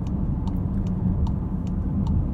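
Volkswagen Atlas Cross Sport V6 SUV, a 2021 SEL Premium, on the move: a steady low engine rumble and road noise at even loudness, with faint regular clicks above, heard from inside the cabin.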